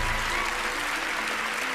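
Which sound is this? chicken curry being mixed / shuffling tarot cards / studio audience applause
studio audience applause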